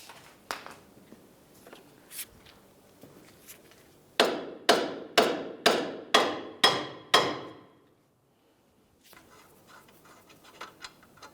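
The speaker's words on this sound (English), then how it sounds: "just give the lower control arm a couple loving bonks to break it free" Hammer blows on a Ford Transit Connect's lower control arm to free the ball joint: seven sharp, ringing metallic strikes in steady rhythm, loud and close, with lighter workshop clatter before and after.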